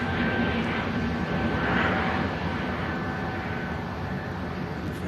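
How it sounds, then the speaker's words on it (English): An EasyJet airliner rotating early and climbing rapidly at Manchester Airport, heard as a steady, broad jet roar at moderate distance, with no talk. "Must have been a pretty early rotation there for that EasyJet."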